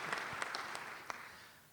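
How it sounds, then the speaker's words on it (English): Brief audience applause at a club luncheon forum, a short burst of many hands clapping that fades out within two seconds, moderately distant. "let's give the Wedgeworth family another round of applause"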